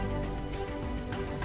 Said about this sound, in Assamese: আচৰিত কথা দেই, ইমান ডাঙৰ বৰষুণ